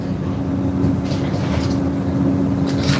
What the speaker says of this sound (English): have to engine brake all the way downhill.